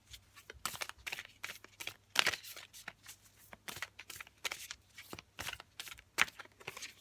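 Oracle cards are shuffled by hand in a run of quick, close riffling bursts, each a short papery flutter with small pauses between, and no talk.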